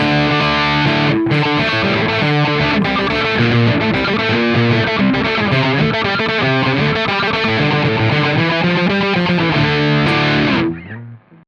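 Heavily distorted electric guitar plays a loud, sustained riff of thick chords, then cuts off abruptly at the end.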